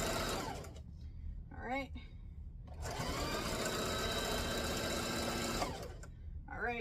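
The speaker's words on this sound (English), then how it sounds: "Now we're going to reverse stitch and go that way." A sewing machine reverse stitches a jumbo pillowcase in several bursts of rapid whirring, with brief pauses between runs, while a person speaks briefly.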